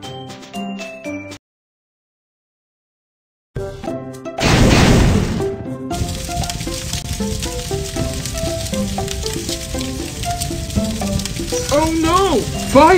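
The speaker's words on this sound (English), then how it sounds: "Oh no! Fire!" Cartoon fire blazing in a factory: after a short silence, a burst of roaring whoosh gives way to steady crackling and sizzling flames under a musical score, loud and continuous throughout.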